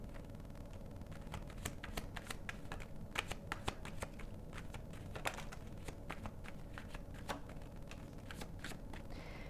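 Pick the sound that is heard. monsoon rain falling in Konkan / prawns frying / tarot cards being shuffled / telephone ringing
tarot cards being shuffled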